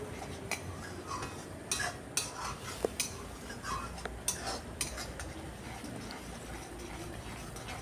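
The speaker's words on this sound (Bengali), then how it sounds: "টমেটোর গ্রেভির সাথে সরষের পেস্টটা দিয়ে আরও কিছুক্ষণ এটাকে খুব ভালো করে কষিয়ে নিচ্ছি।" Mustard paste being sautéed into tomato gravy in a pan: a quiet, bubbling sizzle under repeated metallic spoon taps and stirring scrapes against the vessel, no talking.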